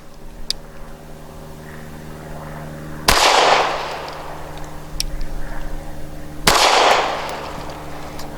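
Two loud, sharp shots from a Taurus G3 pistol at a shooting range, spaced about three seconds apart, each leaving a short echoing decay over a steady low background hum.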